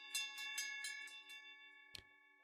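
A door chime rings out in a quick run of about six bright, ringing strikes, followed by a single sharper knock-like hit as a door swings open, all fairly quiet and without talk.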